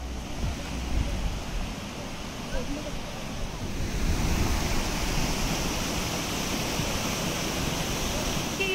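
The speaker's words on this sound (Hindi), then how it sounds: "मेरे पीछे वहाँ पे एक बहुत ही सुंदर ब्यूटीफुल वाटरफॉल निकला है" Waterfall on the Kheerganga trek, a steady broadband rush of falling water heard from a distance and mixed with wind noise, continuous throughout without any clear voices.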